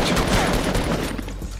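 A burst of loud, close gunfire in Fortnite, with sharp overlapping reports that fill the whole short moment and fade slightly toward the end, with no voices.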